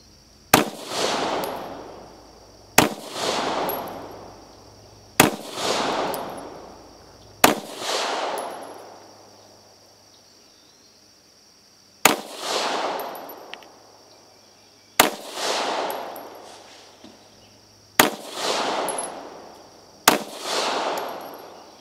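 Pistol shots from a Beretta APX A-1 and a Taurus GX4 fired at an outdoor range, eight loud, sharp reports spaced a couple of seconds apart, each followed by a brief echoing decay.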